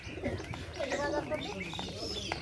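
Pigeons coo softly nearby among scattered chirps, with a person talking over them.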